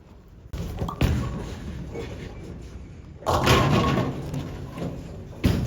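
Bowling ball, a Storm Road Warrior, thrown down a lane: a thud at release, a sustained rolling rumble, then a burst of louder crashing as it reaches the far end, with another hit near the close.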